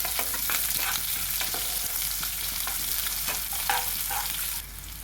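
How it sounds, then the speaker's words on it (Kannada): Half a large chopped onion fries in a pan for fried chicken, giving a loud, continuous sizzle with scraping stirs that eases off near the end. "ಅದರಿಂದ ಅರ್ಧ ಈರುಳ್ಳಿನ ನಾನು ಈಗ ಫ್ರೈಗೆ ಹಾಕ್ಕೊಳ್ತೀನಿ."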